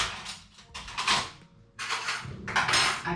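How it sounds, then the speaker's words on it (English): Metal kitchen utensils clatter and scrape in bursts as a spoon is grabbed while making creamy mashed potatoes, with short pauses between the rattling handfuls. "I'm gonna grab a spoon"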